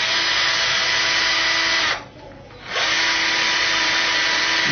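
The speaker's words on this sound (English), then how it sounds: "and we drill it parallel to the" A power drill drives a wire into a tibia fracture model, parallel to the knee joint at the level of the fibular head. It whirs loudly and steadily, stops briefly, then runs again.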